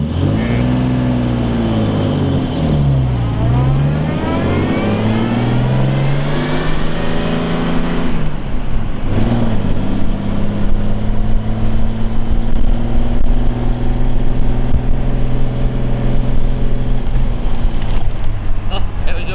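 A 2.5 litre SS100 Jaguar on a road test, its engine loud and close from inside the car, rising and falling through gear changes and then settling into a steady, rough drone. Occupants talk over the engine.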